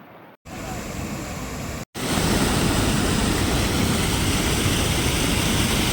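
Heavy rush of floodwater surging through swollen rivers, streams and check dams after torrential rain at Karanji, Pathardi taluka, Ahmednagar; a loud, steady broadband roar fills the clip after two brief gaps, with no clear speech.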